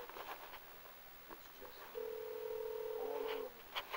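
A phone call is placed on a mobile phone, with a steady single ringback tone sounding for about a second and a half over faint background noise and small handling sounds.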